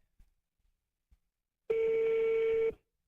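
A single telephone ring tone on an outgoing call, one steady, clear electronic tone lasting about a second, heard alone after a few faint taps.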